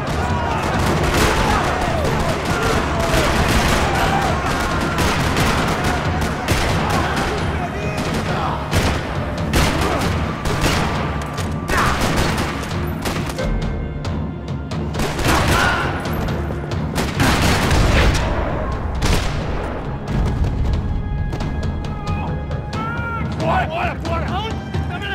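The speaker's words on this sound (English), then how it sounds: "Another parking lot rattling with gunfire." Dense gunfire from the Max Payne 3 video game rattles through a parking lot, with loud repeated shots, bursts and crashes over a constant noisy backdrop and voices mixed in.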